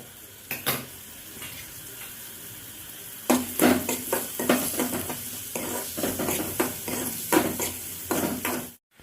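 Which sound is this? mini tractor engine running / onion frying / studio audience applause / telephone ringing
onion frying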